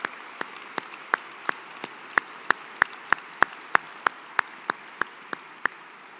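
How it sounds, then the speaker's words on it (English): Guests at a 2023 engineering graduation recognition give a round of applause for family members, heard as a series of about twenty sharp, evenly spaced single claps at a steady beat over a soft background hush. "I'd like to invite everyone to join me in a round of applause for these special family members who are here as part of that group."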